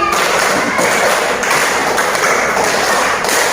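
Classroom of fifth-grade children clapping together in a rhythmic pattern, a dense, loud wash of many hands slapping steadily throughout, with no voices over it.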